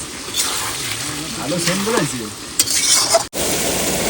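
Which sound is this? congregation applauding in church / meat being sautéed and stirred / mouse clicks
meat being sautéed and stirred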